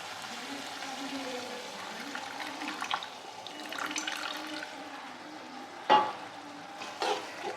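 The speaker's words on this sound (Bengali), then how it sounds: "এবার আমি সর্ষে বাটাটা দিয়ে দেবো" Mustard paste fries in oil with spices for Rui fish mustard curry, a low sizzle under occasional stirring scrapes, with a sharp clack of the spoon against the pan near the end.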